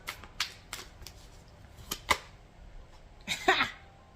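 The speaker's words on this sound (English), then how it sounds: "I'm gonna shuffle." Tarot cards being shuffled by hand, heard as three short bursts of crisp riffling and flicking, close and fairly quiet, with gaps of near silence between them.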